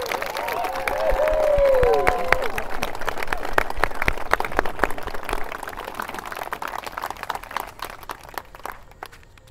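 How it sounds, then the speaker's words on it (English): Wedding guests at a cotton mill venue applaud the couple, a steady patter of many hands clapping at moderate distance after a brief spoken line at the start. "Please give a round of applause for Carter and Lauren"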